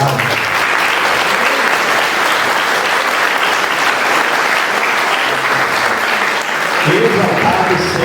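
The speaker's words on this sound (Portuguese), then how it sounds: "Vamos aplaudir mais uma vez o nosso Deus por essa maravilhosa palavra" A church congregation applauds loudly and steadily throughout, dense clapping at close range with voices and murmurs rising underneath toward the end.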